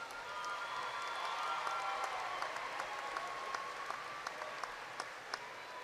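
A graduation audience at Angelo State University's 2018 spring commencement claps steadily for the graduates, a dense and somewhat distant sustained applause with scattered sharper claps standing out.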